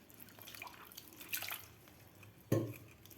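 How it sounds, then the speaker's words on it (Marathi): Quiet splashes and drips of water with a few soft clunks as bitter gourds are rinsed in a basin, fairly faint and close. "एक पाण्याने व्यवस्थित आपल्याला हे कारले धुवून घ्यायचे आहेत"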